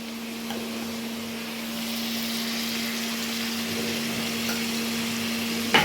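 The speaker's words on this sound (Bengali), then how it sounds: "এগুলোকে একটু ভাজা ভাজা করে নেব।" Potatoes frying in oil with cumin, salt and turmeric, a steady soft sizzle with a constant low electric hum beneath it and a small clatter at the end.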